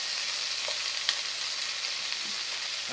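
Sweet corn and onion fry in a pan with a steady, hissing sizzle at moderate volume, broken by a few faint clicks and pops.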